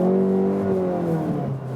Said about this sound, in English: But we already have good exhaust note.